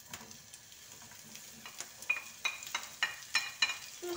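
Chopped onion and sweet pepper frying in a little hot oil, a soft, close sizzle with a series of light scraping and tapping stirs growing more frequent toward the end.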